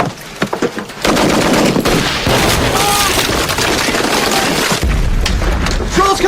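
Battle scene from a war film about a lost battalion: sustained, loud machine gun fire and booming explosions roar almost continuously after a brief opening, with shouted voices mixed into the din.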